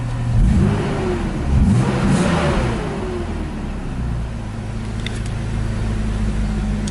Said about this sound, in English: I'll give you guys some revs.